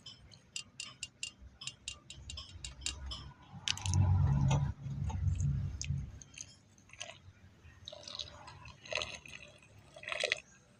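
Aqua regia liquid poured over a spoon used for scraping, rinsing it during gold recovery from thin IC chips: a close, gurgling pour of a few seconds with light dripping and clinks around it, no talk.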